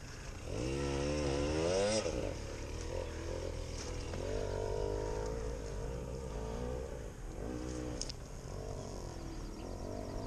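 A dirt bike engine runs on a trail in winter, a loud steady drone with rising and falling revs near the start, then settling into a continuous rumble with a brief dip near the end.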